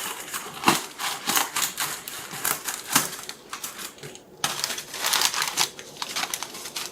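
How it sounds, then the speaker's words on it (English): Paper packaging being cut while boxing plants for shipping, a series of crisp crinkling snips and rustles in irregular bursts, close and moderately loud with no talk. "I have this paper packaging, so I'm going to cut a piece off of it"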